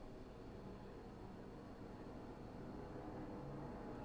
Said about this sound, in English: That is a loud plane going by